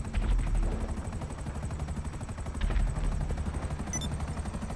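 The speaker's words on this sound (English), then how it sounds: "here's what 2 shots look like from the tank regularly without charging" Khanjali tank cannon in GTA firing two uncharged shots, two loud booming blasts about two and a half seconds apart over a constant rumbling, droning game background, with a brief high electronic chirp near the end.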